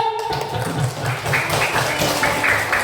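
A classroom of students applauding together after the teacher's lesson on artificial intelligence, a steady dense wash of hand claps sustained throughout with faint murmuring voices underneath.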